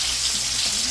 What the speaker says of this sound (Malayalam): ഫുള്ള് മസാല പറ്റി വെച്ചേക്കുവാണ്. നമ്മൾ വറക്കാൻ തുടങ്ങുന്നത്.